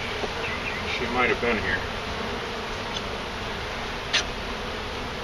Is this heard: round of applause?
no